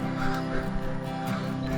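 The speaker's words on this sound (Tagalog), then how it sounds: "yung tunog puro manok talaga" Chickens crow and cackle in the background of a rural crossing during a bike ride near Campuestohan, with many birds nearby. The calls are steady and blend with ambient road noise, with no speech.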